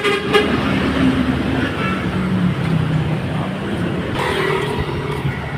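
Busy nighttime road traffic hums steadily, with short car horn toots at the start and again near the end, fairly close amid the rumble of passing vehicles.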